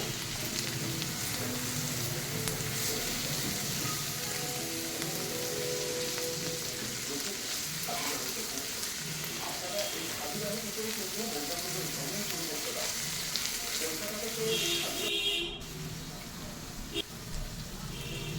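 Grated carrot and mixed vegetables being stir-fried in a pan for lunch, a steady close sizzle with soft scraping as they are turned, continuing throughout and easing slightly near the end.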